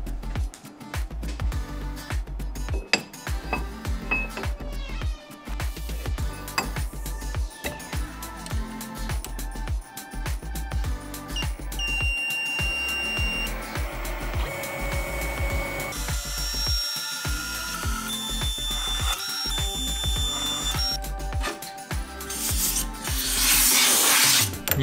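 A CNC machine cutting a workpiece in a factory setup, a continuous harsh grinding and whining with shifting metallic tones, loud and close throughout with no talk.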